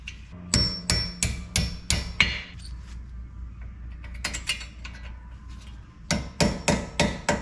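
Torque wrench tightening brake caliper bolts on a Nissan GTR, crisp ratcheting clicks in three rapid runs of about five evenly spaced clicks each, close and clear with no talking.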